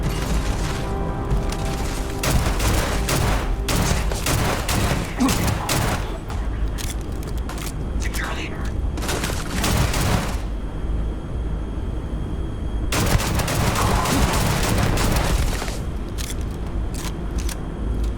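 Heavy gunfire in the game Starfield, long sustained bursts of rapid shots broken by short pauses, loud and close over a low rumbling background, with no talk.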